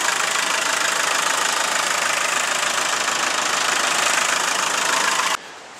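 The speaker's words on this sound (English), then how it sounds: "But it's just a great little motor. It sounds like a Kubota." A Land Rover 300 TDI diesel engine idling, a loud, steady clattering drone with a knocking edge, heard up close and continuous until it drops abruptly to a quieter hum at the very end.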